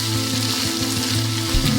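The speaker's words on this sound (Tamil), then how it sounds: "எண்ணெய் சூடானதும் மீனை மெதுவா போடுங்க குழந்தைகளே. அதிக சூட்டுல 4 முதல் 5 நிமிஷம் வரை வறுத்தா ஓரம் முருகல் ஆகும்." Pieces of seer fish sizzle and crackle in hot oil for a crispy Kanyakumari-style fry, a dense, close, steady frying hiss with small popping bursts.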